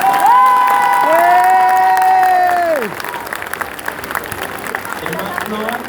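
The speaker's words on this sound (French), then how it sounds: "Applaudissez ceux qui pensent que c'est pain au chocolat." A crowd at a live comedy show cheers and claps in a vote for pain au chocolat, loud raised voices ringing out for about three seconds before settling into a softer murmur of clapping and chatter.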